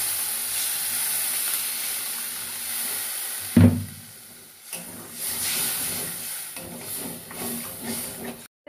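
Water poured into a hot pan of frying cumin, coriander powder, turmeric and salt for a pointed gourd (potol) dish, bursting into a sharp loud hiss and sizzle, then settling into a steady bubbling crackle with clatter.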